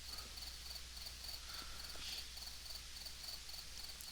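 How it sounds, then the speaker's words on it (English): Crickets chirp in an otherwise empty room in the 1992 Sega CD game Night Trap, a faint, steady high trill of regular pulses over a low hum, with no voices. "You'll hear crickets chirp at any room that you have nothing going on in."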